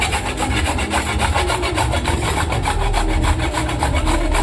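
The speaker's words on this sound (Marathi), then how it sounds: "आता आपण एक ताटात दुधीला छान असं किसणीने किसून टाकायचं आहे." Peeled bottle gourd rubbed against a hand grater into a plate, a steady rhythmic rasping scrape repeating quickly and close by, with no voices.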